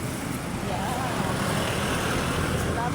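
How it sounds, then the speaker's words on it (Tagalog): Steady road traffic from many cars and other vehicles on a street near a neighborhood market, a continuous broadband roar that stays loud and even throughout. "Dami mga sasakyan."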